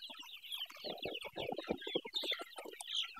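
Chickens on a poultry farm, suffering from the cold and loose droppings, cluck steadily in a dense, overlapping flock chatter that stays close and busy throughout, with no voices.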